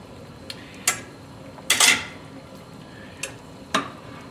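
A spoon gently stirs yellow curry potato soup with salmon in a pot, giving a few sparse, soft clinks and scrapes against the metal with quiet pauses between them.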